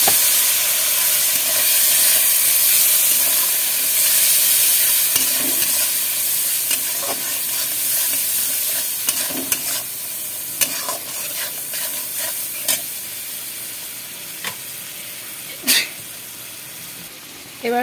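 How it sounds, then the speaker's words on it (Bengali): Spice paste with Kashmiri chilli powder and a splash of water stir-fried for paneer curry in a home kitchen: a loud, continuous sizzle broken by scraping spatula strokes and sharp clicks against the pan. "মশলাটাকে ভালো করে কষিয়ে নিচ্ছি।"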